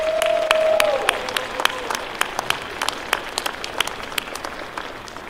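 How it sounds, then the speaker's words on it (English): Crowd applause at a college commencement ceremony, a steady wash of clapping with sharp individual claps standing out, and a brief whistle near the start. "Graduates, please thank your families with a round of applause."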